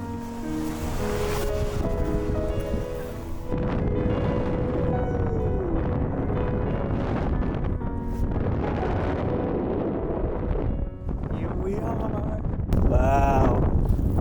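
Arctic Ocean waves wash and surge in a steady roar near the shore, with wind buffeting and other outdoor noise layered over the surf.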